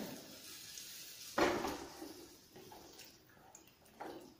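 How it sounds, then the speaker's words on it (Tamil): Tamarind extract poured into a pot of okra kuzhambu, a short splashing pour of thick liquid followed by fainter drips and stirring, close and quiet with no talk. "புளி கரைச்சல் எடுத்து இதில் விட்டுடுறேன்."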